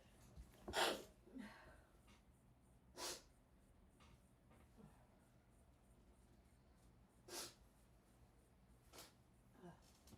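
Several sharp, breathy bursts spread over a quiet background, one stronger sneeze-like burst early, then softer snorts and sniffs.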